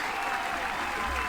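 An audience in the Detective Pikachu video game claps steadily for a little over a second, a dense, continuous wash of applause with no voices.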